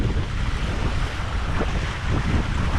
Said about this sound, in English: Gusts from here, gusts from there.